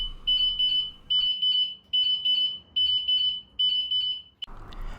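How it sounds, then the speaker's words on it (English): A scooter's motion-sensitive alarm on a 2021 SYM Jet X 125cc beeps shrilly in repeated paired pulses, loud and close, stopping abruptly near the end. "a continuous alarm will sound"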